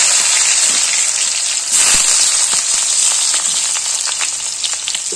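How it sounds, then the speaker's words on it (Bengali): Potato and tomato frying in hot oil in a pan: a loud, close, continuous sizzle with bright spattering crackles running the whole time, no voices. "আলু টমেটো দিয়ে তেলের উপরে এটা একটু ভেজে নেব।"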